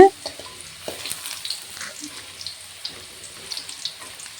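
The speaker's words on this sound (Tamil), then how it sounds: "இப்போ இந்த மாதிரி கரண்டி வச்சு லைட்டாக அப்படியே திருப்பி விட்டுருலாங்க" Bitter gourd fries in oil while a ladle turns it, giving a faint crackling sizzle with light scrapes and clicks at close range.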